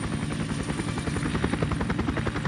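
Helicopter hovering low over sea ice in the Arctic, skis barely touching the surface; a loud, steady rotor thrum with rapid chopping pulses and turbine whine fills the whole stretch, close and unbroken.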